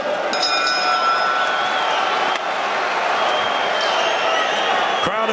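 A boxing arena crowd at a Lomachenko vs Campbell title fight roars with sustained applause, cheering and whoops, a dense wall of noise with a commentator talking over it.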